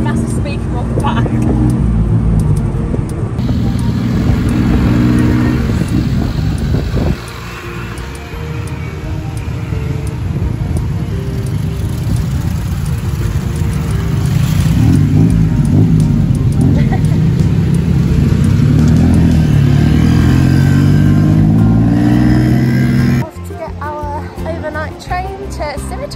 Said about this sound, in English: Sounds like the boy racing cars around Boston.